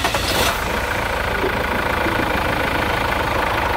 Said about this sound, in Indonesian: habis ini kita hidupkan mesinnya